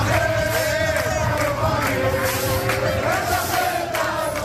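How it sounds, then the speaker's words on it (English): A large crowd shouts and roars as it tries to storm the Sde Teman detention facility in Israel. The yelling is loud and continuous, with overlapping raised voices and chant-like cries across the whole stretch. "Crowds seen here trying to storm both Sder Teman and the detention facility the accused soldiers were held in July"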